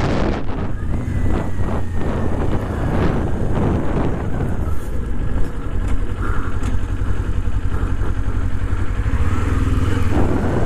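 Motorcycle being ridden and shifted into first gear on rough practice ground, a loud continuous engine drone with heavy wind buffeting on the microphone throughout.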